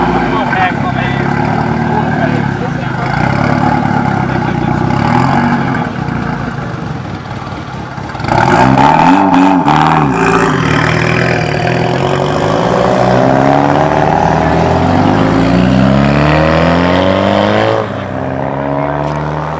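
Race cars and shiny street cars with aluminum wheels rev and accelerate at a Sunday car meet. The engines roar loudly, with a surging rev midway and drawn-out pitch sweeps, while voices talk over them.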